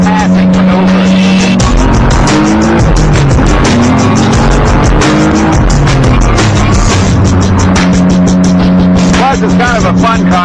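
A Shogun car fitted with a Ford Taurus SHO engine and nitrous revs loudly and continuously, its pitch sweeping up and down with gear changes, close and saturated, heard from inside the car while driving.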